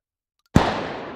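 A Tsar Bomba detonation in the game H3VR erupts after half a second of silence as a sudden heavy booming blast, then rolls on as a long, loud, slowly fading rumble.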